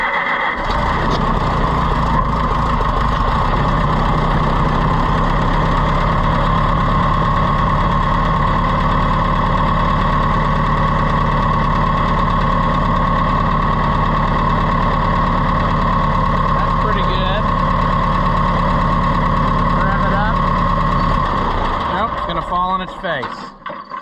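A carbureted engine runs steadily after a carburetor adjustment, loud and close, with a constant rough drone that holds for over twenty seconds before fading at the end.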